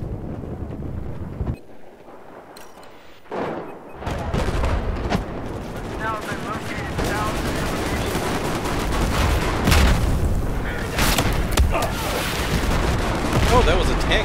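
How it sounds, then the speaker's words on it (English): Heavy booms from a tank cannon firing through a doorway in the Battlefield 4 Siege of Shanghai map, amid scattered gunfire and loud battlefield rumble, with a short lull before the shots resume. "that was a tank shooting through that doorway"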